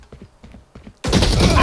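Loud sustained burst of gunfire in an online shooter video game, breaking in abruptly after a second of quiet with faint game sounds and soft thuds, then holding dense and continuous to the end.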